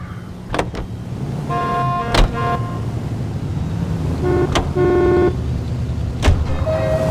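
A 1940s-era car drives through city streets in the L.A. Noire video game, its engine humming steadily while several short horn toots from surrounding traffic sound at intervals.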